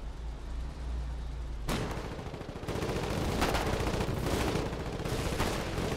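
Mortar artillery fire in the video game Foxhole, a dense rolling barrage of booming blasts and crackling gunfire that continues for several seconds at steady loudness, with no talk.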